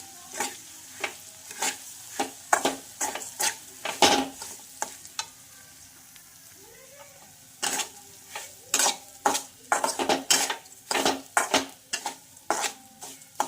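Semolina roasting in ghee for jaggery sheera is stirred in a pan, giving repeated scraping strokes in irregular bursts over a soft, steady sizzle, close and fairly quiet.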